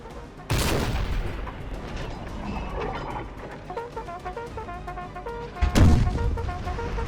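Artillery fire and battlefield noise from the Napoleonic strategy game Napoleon: Total War, with two heavy booming cannon blasts about five seconds apart over a continuous din of distant musketry and in-game music.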